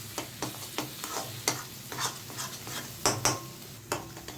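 Spice masala being stirred and fried in a pan while cooking, a soft steady sizzle broken by repeated sharp scrapes and clinks of a utensil against the pan, close and fairly quiet.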